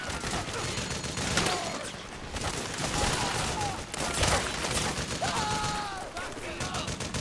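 Gunfire in the video game Metal Gear Solid 4: Guns of the Patriots, with steady crackling bursts and sharp shots over a constant battle din, several louder cracks standing out, with shouting voices in the mix.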